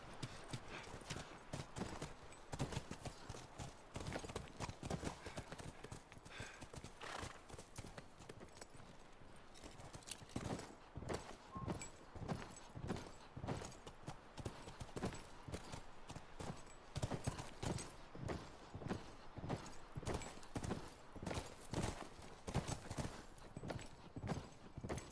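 Steady clip-clop of horse hooves walking at an even rhythm in the video game The Last of Us Remastered, close and clear, continuing throughout with no talking.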